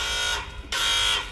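A car's anti-theft text-alert alarm sounding a loud, steady high-pitched electronic tone in two bursts separated by a short gap, close to the microphone.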